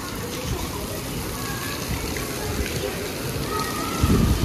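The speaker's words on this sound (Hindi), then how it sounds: "इतनी तेज बारिश आ रही है।" Steady, dense rain hisses and splashes close by with a constant wash of water, swelling slightly louder near the end.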